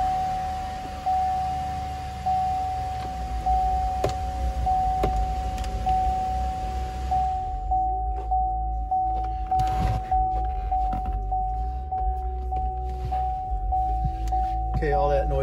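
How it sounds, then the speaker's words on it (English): A Cadillac XTS being shifted into neutral, with mechanical clunks and clicks from the car while a warning chime repeats at a steady pulse throughout. "all that noise was me trying to put the car in neutral."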